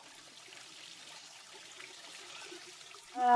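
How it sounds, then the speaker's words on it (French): Water trickling and splashing down man-made cascades at an enclosed coastal garden site, a steady soft wash heard from some distance, with a brief louder tonal sound at the very end. "Et donc là, par exemple, ils ont construit ces cascades."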